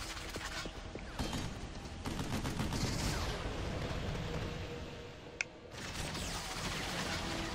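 Rapid bursts of gunfire and explosions crackle through a firefight in the video game Vanquish, dense and continuous with one sharp crack near the end.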